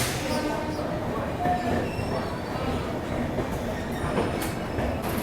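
A passenger train pulls out of Jhansi railway station, heard from inside a 3rd AC coach: a loud, steady rumble of wheels on track, with faint squeals and light clatter and no voices.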